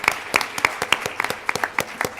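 Audience applause in a Q&A session: a short run of sharp, close claps, fairly sparse and uneven, with no talk over it.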